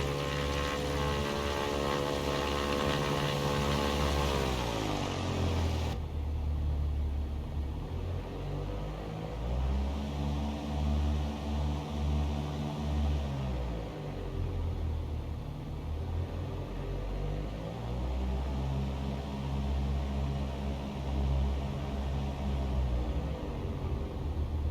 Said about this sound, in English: So now we're taxiing to runway 9.